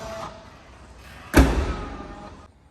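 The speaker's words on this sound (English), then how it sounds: "So close the trunk, you just push the button." The trunk lid of a 2009 Mercedes E320 Bluetec closes at the push of a button: a faint mechanical whir, then a single sharp thump as it latches, fading into a brief quiet hum.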